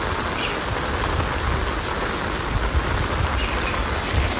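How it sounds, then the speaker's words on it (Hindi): Heavy rain falls steadily outdoors as a dense, continuous wash of noise, loud and unbroken throughout with no talking. "तेज बारिश हो रही है, देखो एक बार।"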